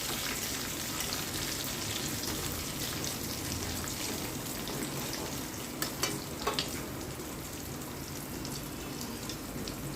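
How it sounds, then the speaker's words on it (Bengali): Cumin seeds, bay leaf and whole garam masala fry in hot oil with a continuous close crackling sizzle, along with a few brief clinks of stirring near the end. "এবার ওই তেলের মধ্যেই আমি ফোড়ন দিয়ে দেবো, জিরে, তেজপাতা আর গোটা গরম মশলা"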